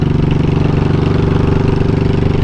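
A motorcycle engine with the throttle applied, running steadily close to the microphone as a rapid, even, pulsing chug with no voices.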